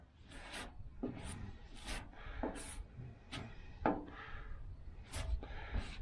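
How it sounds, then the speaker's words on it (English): Bondo body filler being worked on a 1968 Chevelle Nomad under restoration, a repeated scraping and rubbing stroke about once per second, each pass ending in a sharp swipe, fairly quiet and close, with no talk. "Should have mixed up a little bit more, but yeah, just mix a little bit."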